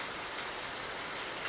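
Steady rain falling through the early morning, a dense, even patter on surfaces that holds at a constant level with no voices.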